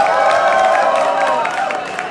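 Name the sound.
audience applause for a drag gala performer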